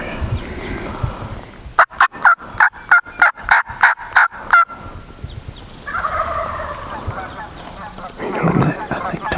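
Wild turkeys in a remote public hunting area give a rapid series of about nine loud, sharp gobbles or calls close together, followed by softer, rougher turkey calling and rustling in the open woods.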